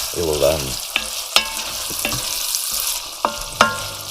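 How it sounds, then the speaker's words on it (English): Garlic sizzles steadily in a frying pan while a utensil stirs it, with sharp scraping clinks against the pan at intervals, close and loud, and no talking. "And then let this fry up a bit, just a bit, not much. Don't leave the garlic too much"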